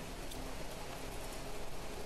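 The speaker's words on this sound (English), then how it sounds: "So heavy rains outside." Heavy rain weather in the video game The Planet Crafter, a steady, dense hiss of rainfall that fills the whole stretch evenly without letup, with no voices over it.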